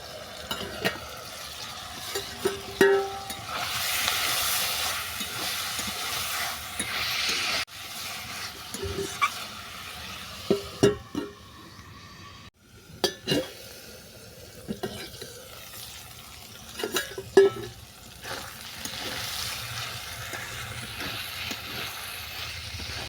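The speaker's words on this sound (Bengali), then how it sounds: "চিকেনটাকে চাপা দিয়ে দিয়ে ভালো করে কষিয়ে নেব।" Chicken pieces stir-fry in a pan and are pressed down, giving a low sizzle broken by repeated scraping and clacking spatula strokes at uneven intervals, close by and without talk.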